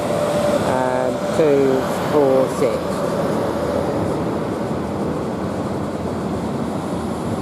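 British Rail Class 350 electric train runs into Milton Keynes Central station bound for Crewe, a steady loud hum and rush of motors with a short burst of station tones early on while someone talks over it.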